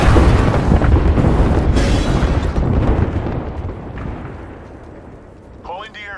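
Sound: airstrike explosions in a video game

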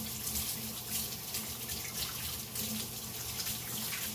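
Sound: hands being washed under a running tap

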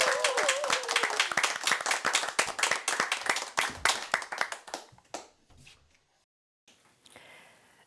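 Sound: audience clapping

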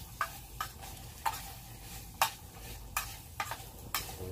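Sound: Spam and Mexican rice sizzling in a canteen cup

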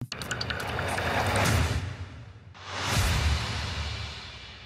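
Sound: swoosh sound effects in a pop song production

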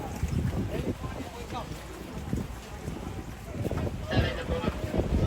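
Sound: boat moving on water

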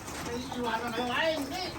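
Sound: pigeons cooing

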